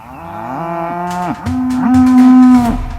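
A bull bellows loudly, a long, deep, harmonic moo that rises and swells toward the end, heard up close with no other sounds.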